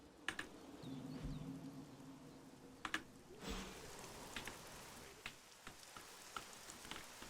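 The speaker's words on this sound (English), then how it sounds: "seeing as it's tipping it down with rain" Steady rain pouring down in the video game Marvel's Midnight Suns, a soft continuous hiss with scattered clicks and taps layered over it, fairly quiet throughout.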